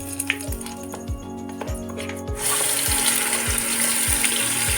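Ginger garlic paste frying in a pan with bay leaf for a paneer curry, starting with rhythmic stirring taps and then breaking into a loud, steady sizzle that continues to the end, with no talking.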